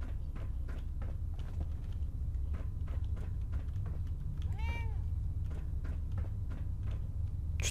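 A cat in the Fallout 4 video game gives one short, clear meow midway, while footsteps tap in a steady rhythm over a low droning game background.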